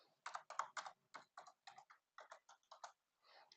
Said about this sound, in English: And so I'm typing all this out.